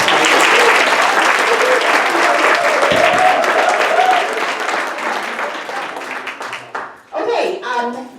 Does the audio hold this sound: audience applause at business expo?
yes